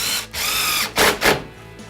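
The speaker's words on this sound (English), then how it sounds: "Now let's talk about the impact driver." A cordless impact driver driving a screw, heard up close as a buzzing run of about half a second followed by two short, loud rattling bursts, with no talking.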